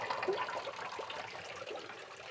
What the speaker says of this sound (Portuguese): Agora eu vou só completar aqui o nível de água.